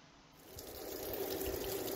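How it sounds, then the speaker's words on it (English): Cooling water runs through a flushing attachment on a boat engine, a steady close rush and trickle that swells in the first second and then holds constant. "water cooling attachment on to give us some cooling water so I can run the engine."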